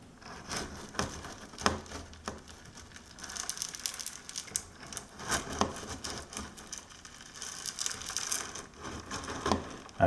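Gravel vacuum pulling potting soil out of an aquarium substrate, a continuous gritty rattle and crunch of stones clattering through the tube, with irregular louder bursts and no talk.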